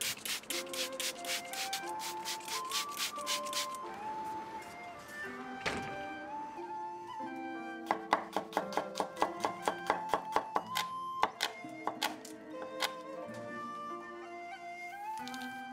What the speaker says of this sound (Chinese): 切一把豆苗